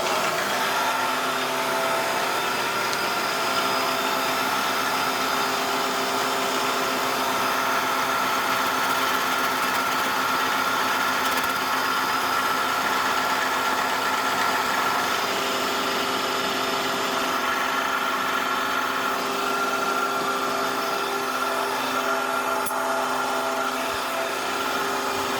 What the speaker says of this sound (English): we're going to go ahead and punch this keyway in here